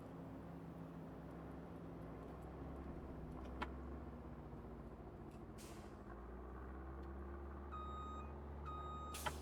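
Reversing beeps from a truck backing toward a trailer in Farming Simulator 25, heard as two short bursts of steady beeping near the end of the clip over a constant low engine drone, with a brief air-brake hiss in the middle.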